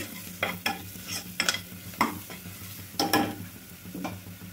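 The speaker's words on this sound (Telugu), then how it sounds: "1/2 స్పూన్ గరం మసాలా అండి వేసాం కదండి. బాగా కలుపుకుందాం." Garam masala being stirred into a hot frying pan, with a string of distinct spatula scrapes and swishes at an uneven pace over a light sizzle, close and fairly loud, with no voices.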